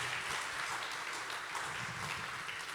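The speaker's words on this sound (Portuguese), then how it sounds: "Venha, por favor, Fabrício, receba-o com a salva de palmas." An audience at a church pastors' conference applauds to welcome a pastor: continuous, even crowd clapping, fairly distant and soft, with no break throughout.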